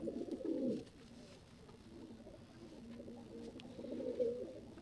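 A pigeon coos in low, soft, throaty bursts, one at the start and another near the end, with quiet ambient noise between.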